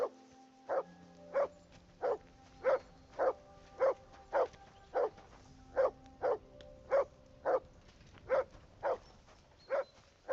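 A dog in Kingdom Come: Deliverance 2 gives about fifteen evenly spaced single barks at moderate distance, with faint background ambience.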